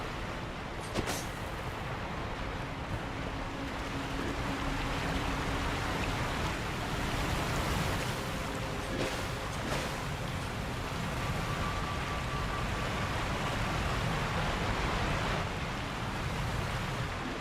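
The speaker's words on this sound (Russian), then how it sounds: "водопад оглушает, кроме него тут ничего не слышно" Roaring waterfall in the video game Sekiro: Shadows Die Twice, a steady, dense broadband rush of falling water that fills the scene continuously and loudly, with no voices over it.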